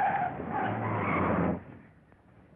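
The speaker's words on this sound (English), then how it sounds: "Stop the car, quick!" A car's tires squeal loudly in a sharp skid for about a second and a half as it brakes to a sudden stop, fading into quiet rumble afterward in a 1941 film scene.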